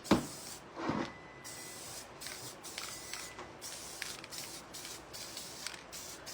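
A spray bottle mists water onto cinnamon for a handmade primitive candle lamp, giving a few short, close hissing bursts near the start and then a softer, steady spray with light rustling.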